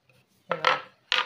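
A knife cuts through raw jackfruit being sliced for chips, giving two short, close, crunchy cutting strokes separated by a brief pause, with no talking.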